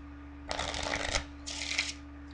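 A deck of playing cards shuffled twice during a magic trick, two quick riffling bursts close by, the first longer than the second, with a faint steady hum beneath and no talking.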